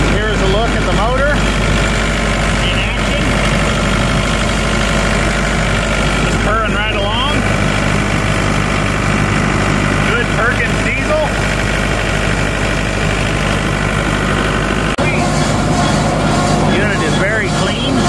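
A Massey Ferguson Kincaid 8XP combine's engine runs at a steady loud idle close by, a continuous mechanical drone with someone talking over it.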